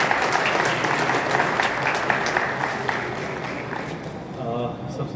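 A crowd at a campus zero-waste initiative's inaugural session gives a welcoming round of applause, a steady, loud clatter of clapping that eases near the end as a voice starts to speak.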